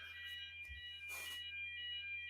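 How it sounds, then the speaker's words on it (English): Alarm sounding outside a flat building, a faint, steady, high-pitched electronic tone heard from a distance indoors, with a brief burst of noise partway through. "There's an alarm going on outside my flat building."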